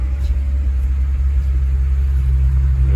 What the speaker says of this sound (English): 452 cubic inch 48 valve V12.